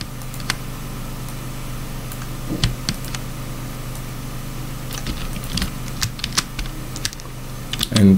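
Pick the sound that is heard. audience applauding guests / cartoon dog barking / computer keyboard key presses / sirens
computer keyboard key presses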